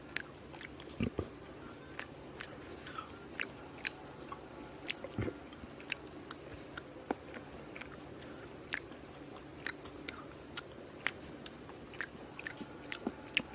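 Children chew fried eggs with runny yolks at a home eating show, steady wet chewing and soft bites close up, with frequent small crunchy clicks throughout and no talking.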